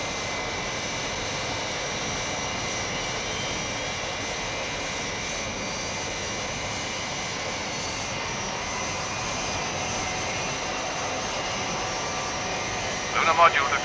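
Sci-fi spacecraft engine roaring steadily after liftoff, a dense, even broadband rush that holds at a constant level throughout with no speech over it, ending in a brief crackle.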